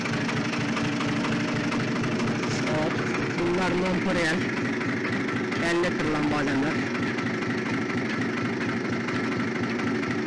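A tractor engine runs steadily during an almond harvest with a tree shaker, a constant mechanical drone and knocking vibration throughout, with people talking over it.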